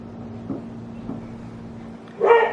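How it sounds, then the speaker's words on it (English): A dog barks outdoors in a garden. Two faint, muffled barks are followed by a louder, closer bark near the end, over a steady low hum. "I don't know who he's barking at."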